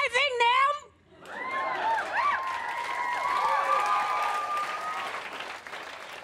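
A stand-up comedy audience bursts into applause after a brief voice at the start, with loud clapping, whoops and cheering sustained close and full before tapering toward the end.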